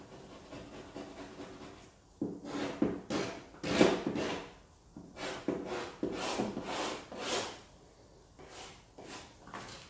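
Repeated rough scraping strokes rasp against an old wooden pie cabinet as paint is scraped off, in uneven bursts, close up, with brief pauses between passes.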